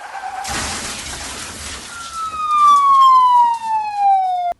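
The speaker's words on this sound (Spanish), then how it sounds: "En ese momento se escuchó cómo se derrapó un carro." A car skids with a long descending screech of tires that grows loud and cuts off abruptly, preceded by a burst of broadband noise.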